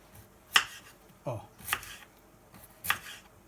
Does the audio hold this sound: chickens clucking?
no